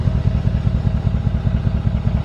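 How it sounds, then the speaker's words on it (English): A Mercedes-Benz ML550 V8 exhaust with no muffler or resonator idles loud and deep, with a rough, rapid pulsing burble, close by. "Check out the exhaust."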